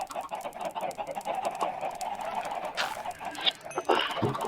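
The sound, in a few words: chicken clucking in the video game Minecraft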